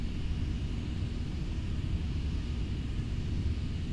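Boeing 727 in Flight Simulator X on approach with landing gear lowered: a steady, loud broadband engine and airflow rumble fills the whole stretch without clear change or voices.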